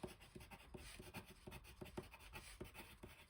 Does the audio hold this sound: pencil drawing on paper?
yes